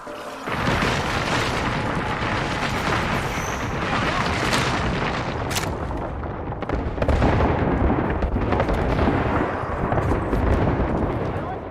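Artillery strike explosions in a video game roll on as a continuous heavy rumble of booms and blasts, loud and dense throughout, with voices talking underneath.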